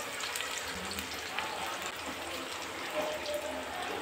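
Water is poured into a pan of frying spice masala of ginger paste, cumin, fennel and dried red chilli for a Bengali cabbage dhoka malaikari, giving a faint, steady watery sizzle and hiss.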